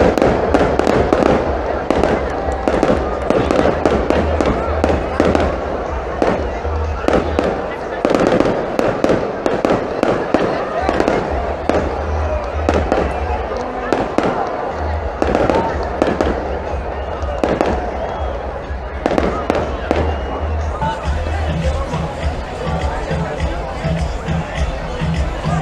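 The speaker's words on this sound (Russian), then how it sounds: "вот и долгожданный салют" Fireworks crack and boom continuously in rapid bursts, loud and dense, over a murmuring crowd and scattered voices at the San Juan festival in Benidorm, Spain.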